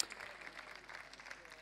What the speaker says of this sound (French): Des applaudissements pour leur souhaiter bienvenue.